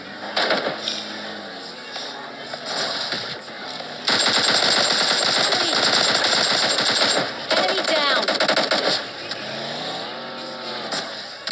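Rapid bursts of video game gunfire mixed with engine roar and tire screeches, loud and dense, with a voice speaking over parts of it.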